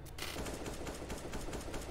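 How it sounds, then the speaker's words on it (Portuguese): Rapid automatic gunfire in Counter-Strike rattles out as a continuous burst of sharp, closely spaced shots from a professional match, loud and alone with no talk. "Aqui no caso ele vai dando esses disparos só pro JW ganhar um espaço"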